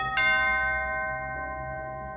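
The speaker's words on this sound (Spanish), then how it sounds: "a esa hora sonó el timbre de la vivienda" A doorbell at a house chimes once in a dramatized crime narration, a bright struck tone whose ringing harmonics decay slowly over a couple of seconds, heard alone without talk.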